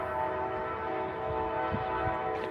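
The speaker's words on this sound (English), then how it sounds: "you can hear the train in the background" Steady rumble of a train passing in the background near Old Town San Diego, a continuous mid-level drone with sustained tonal hum running through the whole stretch, no talk over it.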